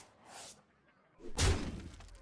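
Hearthstone's Soulshare Shard Shatter card effect plays as a soft whoosh followed by a louder crashing, shattering burst with a low thump, fading into a brief rumbling tail.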